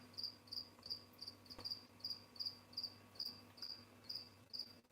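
Crickets kept in an enclosure chirp in a steady, evenly spaced series of short bright trills, close and clear over a low steady hum, with no one talking.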